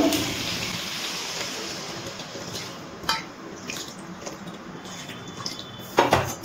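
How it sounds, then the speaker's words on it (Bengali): Warm water poured into a pot of braised chicken and potato curry, a steady wash of liquid with a couple of clinks from the pot near the end, close and fairly quiet, with no talking. "এবারে কষানো মাংসের মধ্যে দিয়ে দিচ্ছি উষ্ণ গরম জল"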